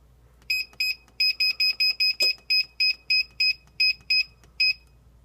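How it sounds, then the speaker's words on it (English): An oven timer being set while almonds roast for paleo almond butter: a quick run of loud, evenly spaced electronic beeps, with one sharp clatter in the middle and no talk. "Set the timer here."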